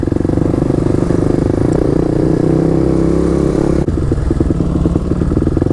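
A Kawasaki Enduro SE motorcycle engine runs steadily up close, a loud continuous mid-pitched drone with mechanical clatter and a brief dip near the end, no voices.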